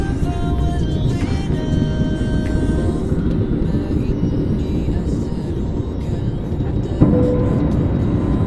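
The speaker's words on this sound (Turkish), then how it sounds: "şu an havalandık ve Venedik semalarındayız" Cabin of a Pegasus airliner just after takeoff from Venice: a loud, steady low engine and airflow roar with faint tonal whines and a thump partway through.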